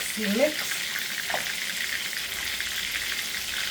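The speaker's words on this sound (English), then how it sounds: "I'm just going to give this a little mix." A spoon mixes meat sauce in a pot for baked ziti, a low, steady bubbling sizzle with a brief voice sound at the start.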